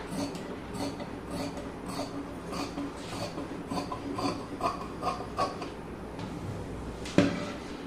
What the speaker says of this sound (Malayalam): ബാക്കിയുള്ളതൊക്കെ സെയിം അളവിൽ തന്നെ കട്ട് ചെയ്യാം